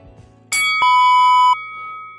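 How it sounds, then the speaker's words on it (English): A boxing bell rings once, a sharp metallic strike with a bright sustained tone that holds for about a second before cutting off, loud and close, followed by a quieter lingering ring. "The bell has rung."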